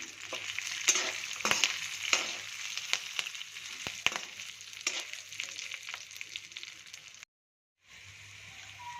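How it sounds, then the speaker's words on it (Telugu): Chopped green chillies sizzle steadily in hot oil for a crispy poha mixture, with frequent stirring scrapes and crackles up close. The sound cuts out briefly near the end and then resumes. "ముందుగా కట్ చేసి పెట్టుకున్న పచ్చిమిర్చి వేసుకొని వేయించుకోవాలి"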